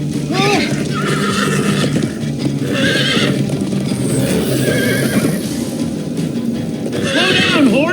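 Horse in the Minecraft Story Mode video game neighs repeatedly in loud, close whinnies over rapid galloping hoofbeats, with people talking over the action.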